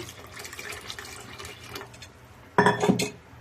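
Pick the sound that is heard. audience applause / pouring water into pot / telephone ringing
pouring water into pot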